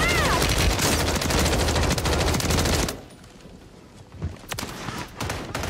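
Sustained automatic fire in Rainbow Six Siege, a dense, loud machine-gun burst lasting about three seconds before it drops off sharply, followed by quieter scattered shots and game noise.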